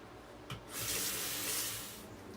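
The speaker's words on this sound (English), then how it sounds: "Let me rinse off and I'll be back for the second." A tap runs while someone rinses off after a shave, a steady close hiss of water rising after a brief splash and holding for a couple of seconds.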